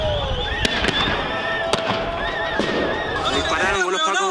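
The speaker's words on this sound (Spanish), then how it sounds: "Dispararon los pacos, weón." Police gunfire at a street protest, sharp cracking bangs at irregular intervals amid shouting crowd voices and chaotic outdoor noise.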